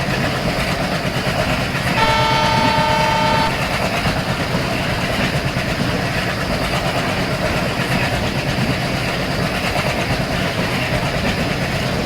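A diesel train in the Indian Railways Train Simulator game runs steadily at high speed on a Bahidipalli route, with a continuous rumble and rattle throughout and a brief horn-like tonal blast partway through; no talking.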